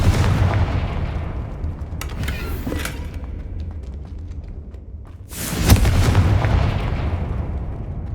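Confringo fire-spell explosion in the video game Hogwarts Legacy: a sharp booming blast hits about two-thirds of the way in, rising out of a steady low rumbling ambience with a few lighter crackles earlier.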